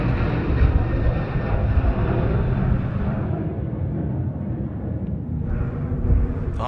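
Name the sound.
Boeing 737-800 airliner departing Sydney Airport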